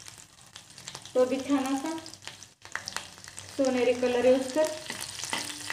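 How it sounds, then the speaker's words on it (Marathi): Chopped garlic sizzles in hot tempering oil with mustard seeds and cumin, a steady close frying hiss running under a woman's speech throughout. "हा लसूण मी कट करून घेतलेला आहे, तो फोडणीसाठी घालायचा आहे"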